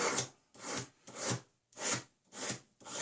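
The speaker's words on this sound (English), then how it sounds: "I use about a 120 grit on a sanding stick" A 120 grit sanding stick reshapes the tips of metal tweezers on a bench in six even back-and-forth strokes, each a soft close scratchy rasp with short silences between.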